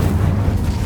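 Incendio fire spell cast in Hogwarts Legacy, a dense, loud roaring whoosh of flame with a deep rumbling body that holds steady for just under a second.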